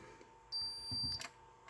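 Insulation resistance tester during a continuous measurement on a boat's electrical system, a single faint high electronic beep lasting about a second, quiet and alone.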